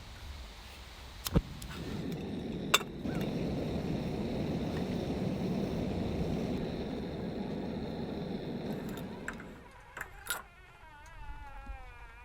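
Steady, broad rushing wind at a cold-weather campsite buffets the microphone for several seconds, with a few sharp knocks, then drops away near the end as faint warbling tones come in.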